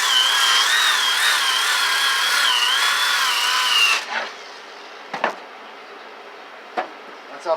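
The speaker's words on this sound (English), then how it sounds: "That's how fast it takes to sand two of these off." A power sander runs steadily on wooden bookshelf supports with a high whining hum, then cuts off abruptly, leaving a few faint knocks and clicks of handling.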